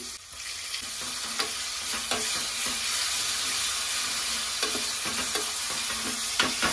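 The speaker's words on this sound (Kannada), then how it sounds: "ಬೆಳ್ಳುಳ್ಳಿ ಮತ್ತೆ ಮೆಣಸಿನಕಾಯಿ ಪೇಸ್ಟ್ ಹಾಕೊಂಡ ನಂತರ ನಾನು ಇದನ್ನ ಒಂದ್ ನಿಮಿಷದವರೆಗೂ ಫ್ರೈ ಮಾಡ್ಕೊಂಡಿದ್ದೀನಿ" Garlic and chili paste sizzle steadily in hot oil with popping mustard seeds and cumin, broken by repeated scrapes and clinks of a stirring spoon against the pan, close and continuous.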